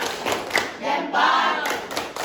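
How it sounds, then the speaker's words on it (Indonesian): A classroom of students performs a rhythmic clapping salute, a few distinct hand claps, then a brief chanted group voice, then more claps, close and moderately loud. "Coba tepuk salut dulu."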